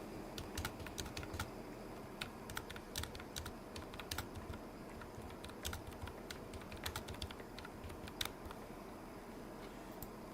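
Computer keyboard typed on for amateur radio messaging, a faint, quick, irregular patter of key clicks running steadily throughout, with no voices.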